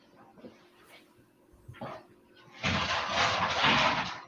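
A dog whimpers and yips in short bursts near a home art session, then breaks into a loud, sustained burst of noise at close range.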